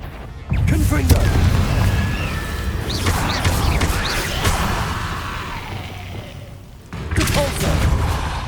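Blast of the Confringo fire spell in the video game Hogwarts Legacy, a deep booming burst followed by rumbling, crackling and whooshing effects, then a second burst near the end, with game voice sounds mixed in.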